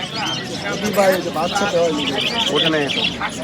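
Doves coo softly amid chirping birds and a busy murmur of people talking at a village bird market in Puthia, the calls partly buried under the voices.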